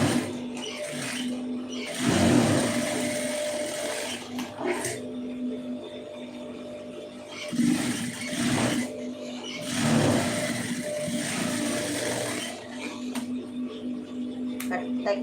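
A sewing machine stitches the neckline of a blouse, running in several bursts of steady mechanical whirring with short pauses between them, loud and close.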